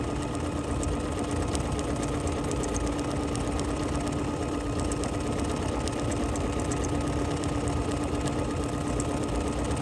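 A sewing machine runs steadily, over-sewing a small feathery embroidery stitch while sashing rows of an embroidery sampler; the close mechanical whir holds an even, continuous drone throughout with no talking.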